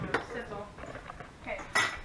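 A spoon stirs a large batch of oats in a bowl, clinking and scraping against the dish in a few irregular knocks, with voices talking in the background.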